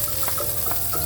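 Onion sizzles in a pan with beef short ribs, giving a steady, close frying hiss with a faint repeating scrape or stir.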